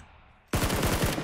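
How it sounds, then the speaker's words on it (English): Rapid automatic gunfire in the PUBG battle royale game starts abruptly after a quiet lull, a loud sustained burst of about eight close shots in quick rhythm with no talk over it. "I'm just shooting."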